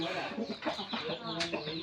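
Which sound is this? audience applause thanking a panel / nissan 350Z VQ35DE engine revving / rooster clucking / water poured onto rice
rooster clucking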